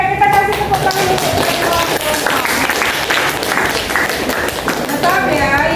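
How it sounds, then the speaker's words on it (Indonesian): A class of students claps hands together in a classroom, a continuous burst of dense clapping with voices mixed in throughout. "Oke, kita kasih tepuk tangan untuk"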